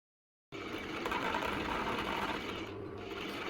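A sewing machine stitches a folded black strip onto a men's native-style V-neck top, a steady close mechanical whir that starts abruptly and runs continuously without pause.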